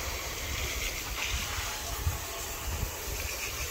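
Water spraying onto a car wheel to rinse off brake dust and iron fallout remover makes a steady broad hiss with faint splashing, continuous and fairly close.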